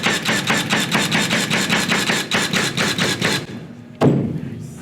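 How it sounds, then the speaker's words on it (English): Milwaukee M18 cordless narrow crown stapler fired rapidly, around fifteen sharp, evenly spaced loud snaps in a fast steady rhythm, then a pause and one final heavy shot with a short ringing decay. "I'll fire a couple of staples for you."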